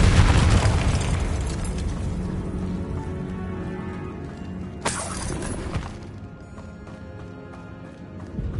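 Confringo blasting spell going off in Hogwarts Legacy: a loud explosive burst at the start with crackling debris, then a second sharp blast near five seconds, over a steady game ambience.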